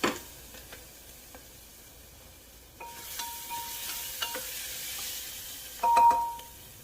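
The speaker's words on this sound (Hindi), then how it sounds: "तो प्याज को थोड़ा सा होने देंगे, हल्का कच्चापन निकल जाए" Onions frying in a pan while being stirred, with a steady quiet sizzle and faint scraping and clinks that grow a little louder toward the end.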